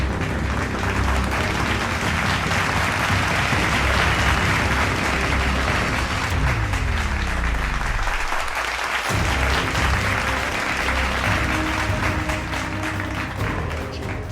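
Sustained applause fills the Canadian parliament chamber as Zelensky is welcomed, a dense continuous wash of clapping from a large audience, steady throughout, with a faint falling tone briefly audible midway.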